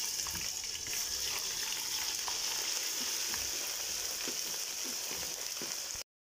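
Steady crackling sizzle of garlic ginger paste frying in hot oil, continuous and close, with occasional stirring scrapes and pops.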